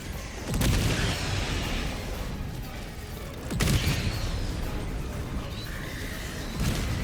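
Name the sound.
orbital strike explosions in the video game Helldivers 2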